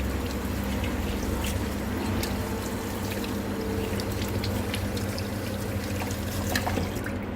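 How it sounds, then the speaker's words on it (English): Water pours steadily from a tap over acid-treated, foamy fabric with hardened yellow armpit stains, a continuous mid-level rushing trickle. "Let's get the acid rinsed out."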